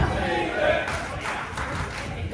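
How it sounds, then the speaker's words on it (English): A wrestling arena crowd cheers and roars steadily for wrestler Anita Vaughan during a tag team match, a dense continuous wash of voices with scattered claps and shouts, mixed under commentary. "The crowd getting behind Anita Vaughan."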